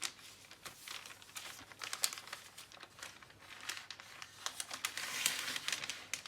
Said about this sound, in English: we're going to just fold these darts like so